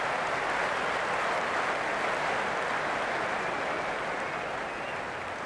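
A dense, steady roar of a large stadium crowd cheering and clapping in a cricket video game, sustained at an even level and slightly fading toward the end.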